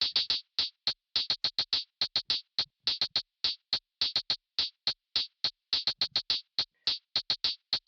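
Crisp hi-hat hits with a longer decaying tail play alone in a bouncy, uneven rhythm across a Memphis phonk beat pattern, dozens of quick ticks spaced closely with occasional gaps.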